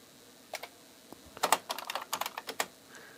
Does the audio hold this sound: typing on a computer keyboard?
yes